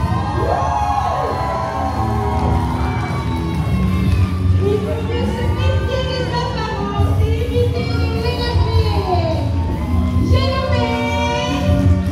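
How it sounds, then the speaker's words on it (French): A crowd at a Brest wrestling show whoops, cheers and shouts for a young wrestler, Jiminy, with sustained, dense applause and yells filling the whole stretch. "Jiminy applaudi par le public brestois."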